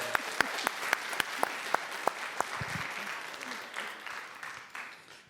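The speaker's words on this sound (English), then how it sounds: "It's always good to get applause before you speak." Audience applause at a business inclusion event fills the room before a speaker begins, dense steady clapping with a few sharp louder claps near the front, slowly thinning toward the end.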